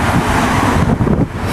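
Cold wind buffets the microphone outdoors near City Hall, a loud, continuous rushing roar with gusty fluctuations and no speech.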